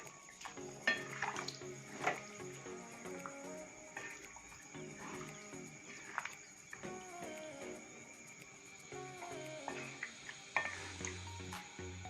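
Saoji mutton curry is stirred in a metal pot with light clinks and scraping over a faint steady hum, moderately quiet and close.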